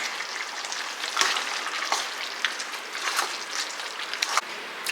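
Mutton gravy with coconut paste, village style, is stirred in a pot, giving soft repeated scraping and bubbly sizzling strokes at a quiet, close level with no talking.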